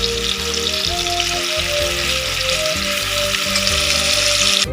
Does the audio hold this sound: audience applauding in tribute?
no